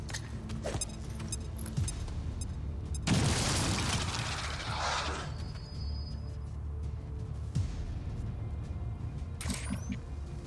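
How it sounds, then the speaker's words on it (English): A grenade detonating in the video game XCOM 2: War of the Chosen, a single loud burst with a rumbling tail that stands out over a steady background of game ambience and music. "Okay, let's use a grenade right off the bat."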